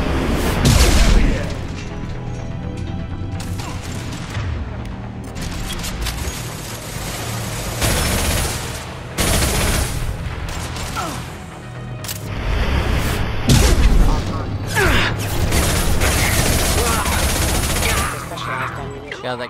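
Gunfire in Mass Effect 2 rattles in dense, repeated bursts, with heavy booms and crackling shots stacked close together, loud and near, while in-game voices and other noises sound around it.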